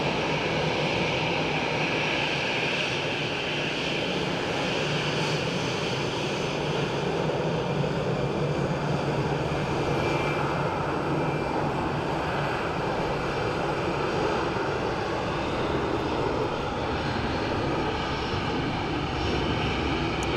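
A Ryanair passenger jet inbound from Kerry rolls in at Dublin Airport, producing a steady, loud, broadband engine roar that holds for the whole stretch without voices.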